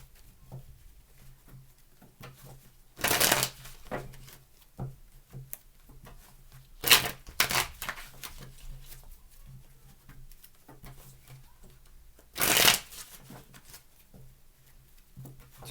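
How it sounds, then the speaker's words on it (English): Tarot cards are shuffled in several short, crisp bursts of riffling separated by quiet pauses, heard close up with no talking. "Two more shuffles."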